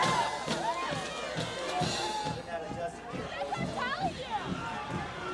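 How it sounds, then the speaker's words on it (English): Spectators in the stands at a high school football game between Royal Oak Kimball and Birmingham Groves, a busy murmur of crowd babble with scattered shouts and cheers, continuous and fairly close, mixed with nearby talking. "There you see our crowd on the Grove side of the field."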